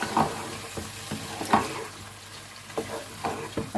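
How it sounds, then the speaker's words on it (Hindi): Chicken sizzles in a pan with crushed garlic, ginger and green chili, soft and steady, with spoon strokes scraping and clacking at irregular moments. "और अच्छे से फ्राई कर लेंगे।"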